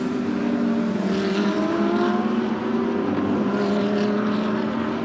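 Onboard sound from an Audi GT race car at Oschersleben in the ADAC GT Masters, with the engine droning loud and steady, its layered harmonics holding near-constant revs throughout.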